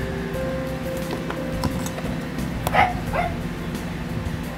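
A dog gives two short, sharp yips in the middle of a steady indoor background hum, sounding moderately close but not loud.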